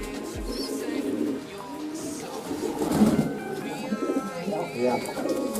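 Pigeons kept by a hobbyist coo softly and repeatedly at close range, with a voice faintly underneath.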